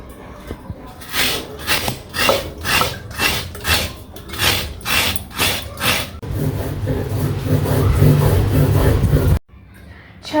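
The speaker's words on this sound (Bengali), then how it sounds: "নারকেল কুড়াতে বসে আজকে কিন্তু ঠাম্মার কথা মনে পড়ছে।" A coconut being grated by hand, a rhythmic scraping that repeats about a dozen times up close, then gives way to a steadier rough rubbing before a sudden stop.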